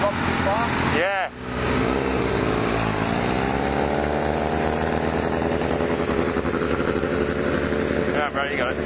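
A Kawasaki 636 motorcycle with an idle-stalling fault sits close and loud. A sharp rev rises, then the engine note sags as the idle drops too low, and it keeps running in a rough, steady drone.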